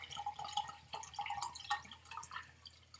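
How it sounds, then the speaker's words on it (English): Water being poured into a glass, heard as a faint, close trickle with small drips and splashes scattered through a quiet indoor setting. "I'm going to pour myself a glass of water"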